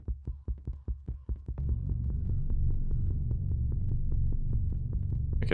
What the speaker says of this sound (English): the heartbeat's going insane